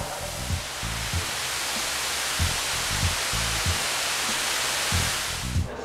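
A stage pyrotechnic silver waterfall, 20 feet wide and burning for 20 seconds during a Dr. Dre concert show, hisses as a steady, loud, dense spray of crackle, with low thumps underneath and no talking.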